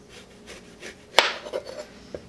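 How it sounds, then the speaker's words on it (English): A kitchen knife chops through the ends of oranges on a board, one sharp crisp cut standing out clearly, followed by a few lighter taps and knocks from handling the fruit. "we are going to start with the oranges. We're just going to cut off the ends"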